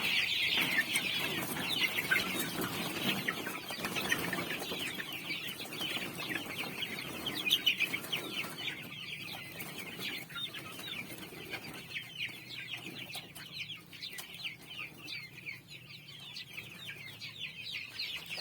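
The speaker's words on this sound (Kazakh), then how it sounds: "Тауықтың балапандары." Young chickens about three months old in a poultry yard coop cluck and peep continuously, a dense overlapping chorus of many birds close by with occasional wing flutters.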